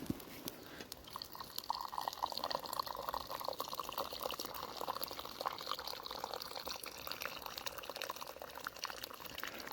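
Water pours into a Fire Maple Antarcti camping pot over a campfire in a steady, trickling stream with splashy gurgles, fairly close and quiet, continuing for several seconds.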